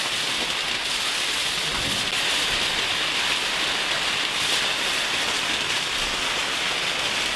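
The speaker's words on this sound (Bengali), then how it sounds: "কারণ বৃষ্টির দিন আর বাইরের মধ্যে প্রচুর পরিমাণ বৃষ্টি হয়েছে।" Heavy rain falling outdoors, a steady, dense hiss of water pouring without pause, fairly loud and even throughout with no voices.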